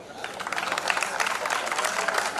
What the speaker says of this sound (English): If I can request one last round of applause.